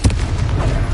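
A Confringo fire spell cast in Hogwarts Legacy explodes with a loud, close burst at the start, followed by a sustained rumbling blast and crackle lasting the rest of the moment.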